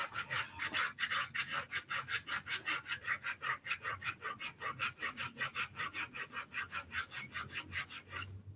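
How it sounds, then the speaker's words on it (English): Rhythmic rubbing on a bare big toe during a pedicure on smelly feet, a steady back-and-forth friction stroke repeating about three times a second, close and clear with no talking. "Just rubbing the big toe."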